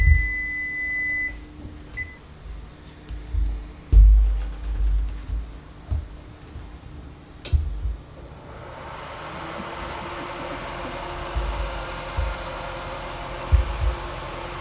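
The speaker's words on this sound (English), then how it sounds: "the timer just went off" An oven timer gives a sustained high beep followed by a short second beep while a peach cobbler pound cake bakes, then kitchen handling thumps and a steady fan-like hiss take over.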